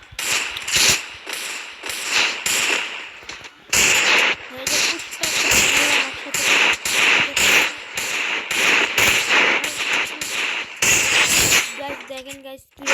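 Rapid bursts of gunfire in a video game, a headshot among them, sharp repeated cracks coming in quick clusters with short gaps, loud and close, with a voice speaking between the shots.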